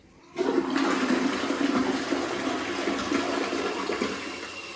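A toilet in a newly moved-into house, with water not draining, flushes abruptly after a short silence, then gives a sustained rushing of water that fades slightly toward the end.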